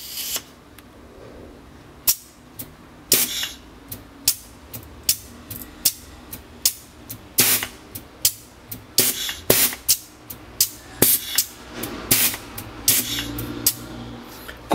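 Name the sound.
pneumatic cylinder with valves actuated, advancing and retracting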